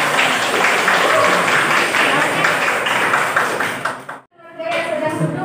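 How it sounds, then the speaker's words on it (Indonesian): A classroom audience claps for a presenting student group, with dense continuous applause mixed with voices, then a brief cutoff before the clapping resumes. "Tepuk tangan ke kelompok kita."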